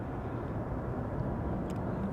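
An Airbus A330 jet engine rolling along the runway at Amsterdam Schiphol Airport, heard from beside the runway as a steady, heavy low roar with a constant rumbling hiss and no voices.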